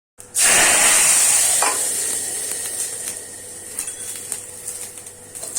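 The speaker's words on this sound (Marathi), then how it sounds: "तर मी पटकन फोडणीला देते आणि नंतर बोलते" A hot tadka of cumin, mustard seeds, garlic and curry leaves for dal bursts into a loud sizzle as it hits, then settles into a steady hiss and crackle that slowly fades over several seconds.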